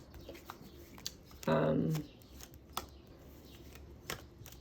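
A deck of cards is riffled once in a quick, close burst, with scattered light clicks and taps before and after.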